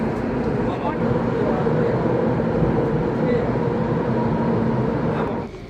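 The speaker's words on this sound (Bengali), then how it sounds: "আমাদের ট্রেনও এসেছে, আমরা এবার আমাদের ট্রেনে উঠে যাচ্ছি" A Singapore MRT underground train runs with a steady low rumble and rolling drone, loud and constant before easing off at the end; a voice talks over it.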